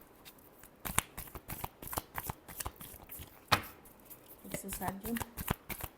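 Tarot cards are shuffled in sharp, irregular bursts of riffling and slapping near the listener, while a voice talks over them.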